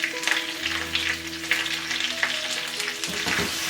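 Shrimp, tea leaves and minced garlic stir-fried in a wok, with a steady close sizzle and repeated scraping stirs of the spatula, a low hum running underneath.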